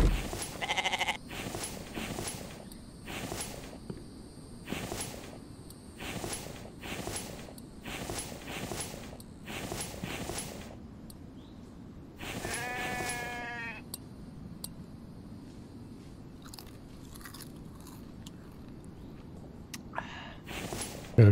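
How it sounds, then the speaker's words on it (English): Goats in The Infected video game bleating repeatedly over twenty seconds, a rapid series of short bleats followed by a longer wavering one and a few sparse calls, with faint game ambience underneath. "Them goats are vicious."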